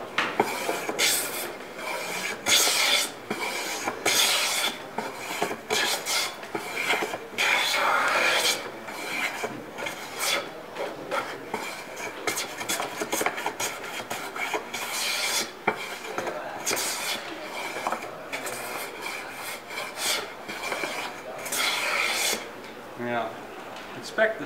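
An HNT Gordon A55 smoothing plane takes a deep cut in wood, giving a steady series of close, raspy shaving strokes that repeat across the whole stretch without pause.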